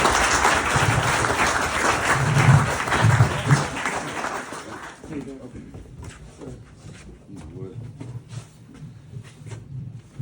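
An audience at a public talk on the wildlife of Wellington's waterways applauds for a speaker, a dense, loud roar of clapping that fades after about five seconds into scattered claps and a voice.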